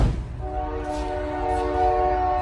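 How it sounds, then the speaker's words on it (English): A steady low rumble with sustained harmonic tones, like a train moving past at a distance, holding level for a couple of seconds. "And then we got a train in the background."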